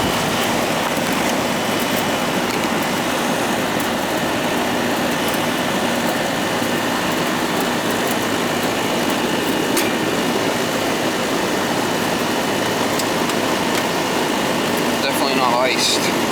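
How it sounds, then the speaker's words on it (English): A compressor runs with a steady, unbroken mechanical hum and hiss at an even level throughout, with a faint rattle toward the end. "compressor's running"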